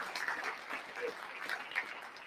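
Audience applause at a live panel show, a brief, faint smattering of clapping from a room of people, soft and thin rather than a full ovation.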